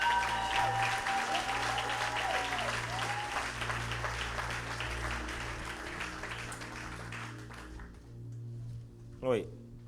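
A church congregation claps to acclaim the Lord Jesus. Fairly quiet applause runs under a speaking voice with music beneath, then fades out near the end.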